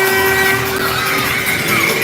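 Crowd noise swells at a youth hockey game in Montreal, a dense steady roar of cheering with a horn-like tone running through it, heard close and loud for a couple of seconds.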